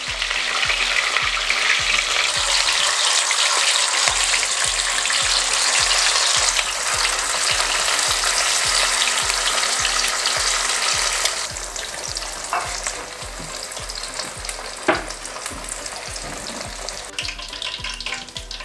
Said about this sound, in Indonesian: Berikutnya kita goreng ayam,